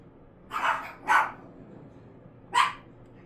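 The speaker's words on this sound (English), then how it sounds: "Dog started barking." A dog barks three times, two sharp barks close together and a third after a pause, moderately loud against a quiet background.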